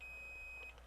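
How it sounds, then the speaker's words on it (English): A multimeter on continuity setting emits a steady high-pitched beep while testing a good fuse in a Nakamichi BX-1 cassette deck power supply, one short continuous tone, close and fairly quiet, with no talking. "We'll go to the continuity. So it should beep if the fuse is good."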